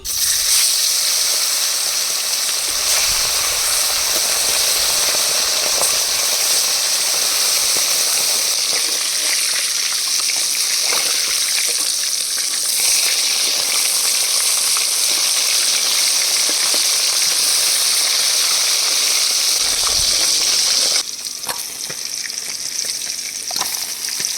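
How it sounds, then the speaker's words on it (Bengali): Fish sizzles and spatters steadily in hot oil, a loud, close, continuous frying crackle with no talking. "তেল গরম হয়ে গেছে মাছগুলো দিয়ে ভেজে নেব"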